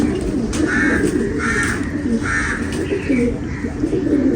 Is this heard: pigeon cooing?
yes